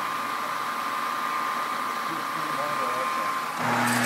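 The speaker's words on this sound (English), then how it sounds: "He's running the spindle right now." A 3-inch Supermill horizontal table type boring mill runs its spindle on a two-speed motor at the higher speed, giving a steady, close mechanical hum with a sustained tone. The hum shifts and grows slightly rougher near the end.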